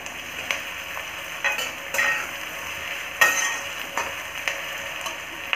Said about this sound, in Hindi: अब मीडियम फ्लेम पे 1 मिनट तक और फ्राई करें।